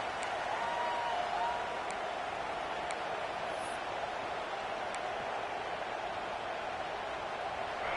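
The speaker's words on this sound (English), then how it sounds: "This crowd unhinged, trying to make sure the Gators don't back down on third down." A football stadium crowd cheers on third down for the Gators, a dense, steady roar of distant voices and noise that holds level without letting up.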